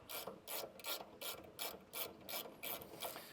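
A 13mm ratchet spanner undoes a bolt on a Cobra Fortis scarifier, giving a close, rhythmic series of about eight clicking ratchet strokes, each a quick burst of pawl clicks.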